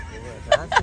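A swan calls outdoors with two short, nasal honks about a quarter second apart, over a low background rumble.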